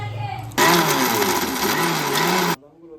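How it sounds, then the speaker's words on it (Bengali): A kitchen blender crushes ghee-fried nuts and biscuits in one loud, steady whirring burst of about two seconds, with a voice speaking just before and after. "বাদামগুলো আর বিস্কুটগুলো ক্রাশ করে নিব"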